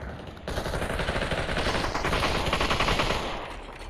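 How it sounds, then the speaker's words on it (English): Sustained rapid automatic gunfire from the VR shooter Population: One starts abruptly after a short pause and rattles on loudly, then tapers slightly at the end. "I'm getting shot from behind"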